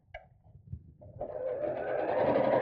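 Sewing machine stitching around the inside of a fabric craft bag, a brief soft tap or two, then the motor running up into a steady whirring stitch that grows louder and continues to the end.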